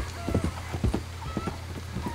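Horse hooves clip-clopping in Red Dead Redemption 2, a steady rhythmic series of close hoof strikes over a low hum, with faint game ambience.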